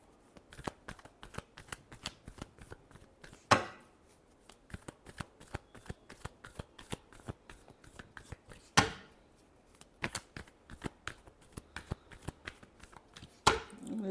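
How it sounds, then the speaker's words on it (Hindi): A deck of cards being shuffled by hand, a long run of rapid close riffling clicks broken by three louder bridging snaps, with faint talk in places. "Last shuffle."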